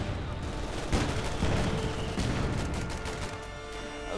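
MG42 machine gun fire in the Company of Heroes 2 strategy game, rapid continuous bursts mixed with explosions and other gunfire in a dense, loud battle din.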